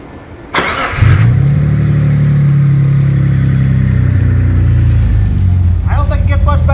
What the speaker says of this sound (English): we're going to go ahead and fire it up.